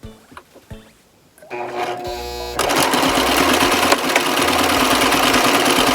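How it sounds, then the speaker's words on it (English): A sewing machine runs steadily, stitching cosplay fabric: a few quiet bumps, then the motor starts with a whir and settles into a loud, continuous, even stitching drone that carries to the end. "Okay, time to sew."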